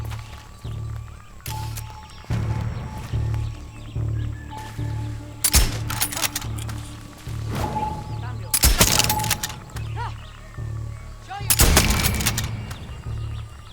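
Gunfire in the video game Far Cry 6 comes in several sharp bursts of rapid shots separated by quieter stretches of low game ambience, with someone talking over parts of it.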